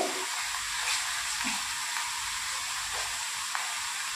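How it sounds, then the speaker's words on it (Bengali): Ridge gourd pieces with salt and turmeric sizzle steadily in a hot pan, a continuous close hiss with faint scraping of a spoon, no voices. "লবণ আর হলুদ দিয়ে একটু নেড়ে চেড়ে ঢেকে দেবো"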